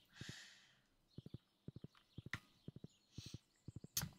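Hooves clip-clop in Stardew Valley as a horse walks in short rhythmic bursts of paired, hollow thuds, stopping and starting, with a few brighter clicks and chimes in between.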